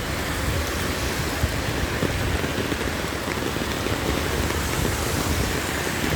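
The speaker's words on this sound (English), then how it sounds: "It's raining a lot." Heavy rain pours steadily in St. Ann, Jamaica, a dense, even hiss of drops hitting the ground and surfaces nearby, constant and unbroken with no voices.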